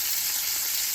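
Inch-thick salted steak sizzling in a pan on a stovetop, a steady, dense hiss of frying fat that stays loud and even with no talk over it.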